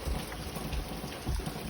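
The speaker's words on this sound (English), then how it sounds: "Oh, look at the rain out here." Rain falling outdoors near a road, a dense steady patter with low rumbling noise underneath, fairly faint and continuous.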